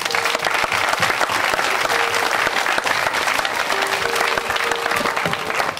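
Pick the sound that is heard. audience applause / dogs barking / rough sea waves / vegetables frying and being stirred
audience applause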